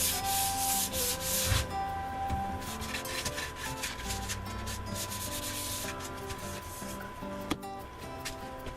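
Close, steady hand sanding with 220 grit sandpaper on a wooden waterfall table between finish coats: repeated rubbing strokes, a soft rhythmic scratchy swish alone without talk.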